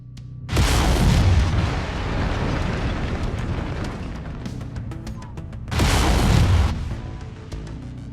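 Laser weapons firing in MechWarrior 5: Mercenaries, heard as two loud, sustained roaring bursts about a second long each, separated by a rumbling mechanical din.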